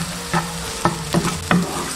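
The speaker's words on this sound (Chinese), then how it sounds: "锅中倒入食用油，下入鸡蛋，" Eggs fry in oil in a wok, sizzling steadily while a spatula scrapes and stirs them in several quick, distinct strokes close by.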